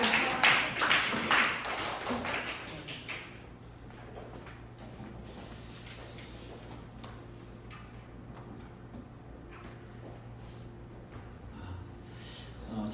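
A church congregation claps to welcome the pastor to a Sunday service, a dense burst that fades out within the first few seconds, leaving a quiet room with faint ticks and taps.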